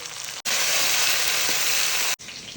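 Shallots, garlic, curry leaves and eggplant sizzle steadily in hot oil for a dried anchovy curry, a loud continuous frying hiss broken by two brief pauses.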